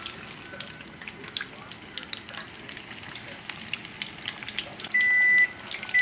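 Beer-battered fish frying in hot oil over a very hot gas burner gives a steady, close crackling sizzle. A short electronic beep sounds near the end.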